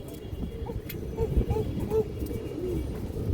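Pigeons of an old racing-line breed coo softly in a few short repeated calls over a busy background of low rumble and murmur, fairly close but not loud.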